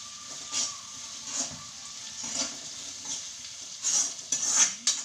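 Sliced onions sautéing with salt in a pan: a soft steady sizzle broken by repeated bursts of stirring and scraping, close and fairly quiet, with no talking.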